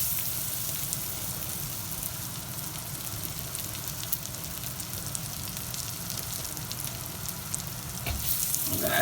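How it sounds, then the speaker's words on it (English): Clams sauté in garlic butter in a hot pan, a close, continuous sizzle and crackle with a slight stir near the end and no talking. "That's what I'm cooking now is clams"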